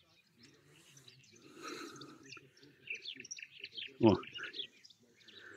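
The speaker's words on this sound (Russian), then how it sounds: "Соловей вовсю." A nightingale sings at full strength in a Belarusian village by a lake on a hot summer day, bright chirps and trills running throughout over low voices talking, with a sharp exclamation near the end.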